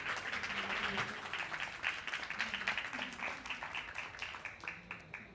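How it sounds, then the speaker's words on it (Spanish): A crowd claps steadily for several seconds, a dense patter of hands at moderate volume that thins slightly toward the end. "Démosle un aplauso y bienvenidos."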